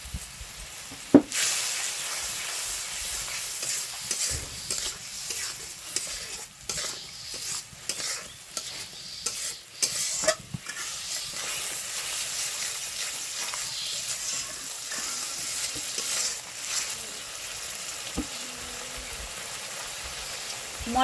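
Spices with turmeric, salt and a splash of water being stir-fried in oil for a fish curry, giving a steady close sizzle with scraping stir strokes and occasional spoon clinks against the pan throughout.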